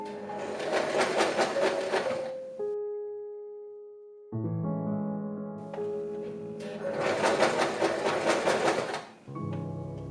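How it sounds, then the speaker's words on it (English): A sewing machine sews bias tape onto a knit dress neckline in two loud, close bursts of rapid stitching, with steady humming tones and mechanical clunks in the pause between them. "I sew it on the inside by the folded edge of the bias tape 2 mm away from the edge."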